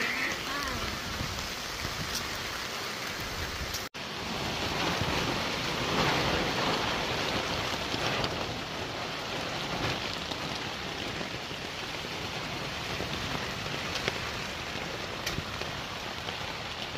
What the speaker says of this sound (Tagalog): Grabe ang ulan. Nabuta kami ng ulan.